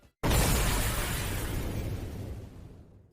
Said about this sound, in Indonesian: tiba-tiba rumah Mayor Kim pun meledak